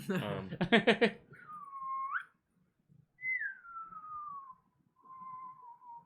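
A person whistles three slow, wavering tones, each a sustained note that rises or glides downward, following a brief burst of talk.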